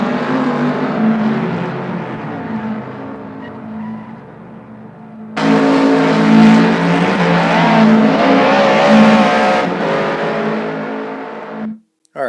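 A car engine revving hard with tire squeal, loud and close. The tone stays steady, then a sharp jump in intensity brings a louder, rising roar that runs until an abrupt cutoff.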